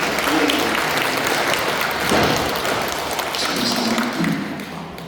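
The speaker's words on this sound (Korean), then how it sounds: "박수" Steady, dense applause from an audience gathered for a training session in a Catholic parish hall in Hyehwa-dong, Seoul; continuous, fairly loud clapping runs the whole time and eases slightly at the end.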